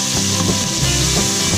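Garlic sautéing in a hot pan for lamb caldereta, a dense, loud, steady sizzle with faint scraping of stirring over it.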